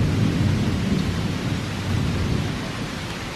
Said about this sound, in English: Oh, storm's close. Here it comes.